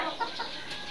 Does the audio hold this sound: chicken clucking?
yes